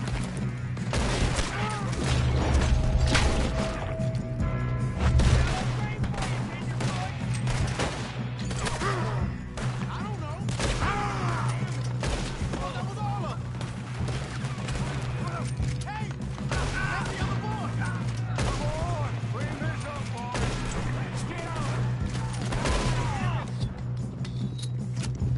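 Rapid gunfire crackles through a Red Dead Redemption video game shootout, shots packed densely over a steady low rumble of music and ambience, loud and continuous from start to finish.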